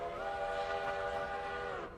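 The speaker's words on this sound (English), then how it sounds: "I really dislike this whistle." Steam locomotive whistle in the railway game Railroader, one long steady harmonic blast lasting nearly two seconds before cutting off, heard alone.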